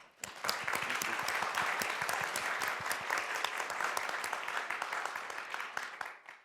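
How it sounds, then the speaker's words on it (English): An audience applauds a conference panel after a case study session, dense steady clapping sustained throughout at close range, tapering slightly at the end. "And just a quick round of applause for them."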